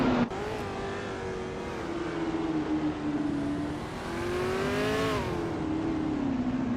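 Race car engines of Lotus and McLaren cars on a track, a sustained loud droning whine with pitch rising and falling as they accelerate, no voices.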